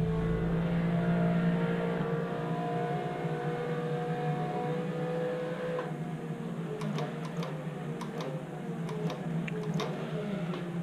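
Race car engine in the rFactor 2 sim racing game, a steady droning tone with gear-shift pitch sweeps and rising revs, joined by sharp ticking clicks in the second half, with no talk.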